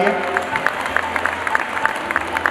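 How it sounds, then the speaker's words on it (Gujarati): Applause from an audience greets the release of a souvenir booklet at a ceremony, a burst of moderate clapping with scattered crowd noise heard briefly. "આપણે જોરદાર તાળીઓથી આ અંક વિમોચન ક્ષણને યાદગાર બનાવીએ"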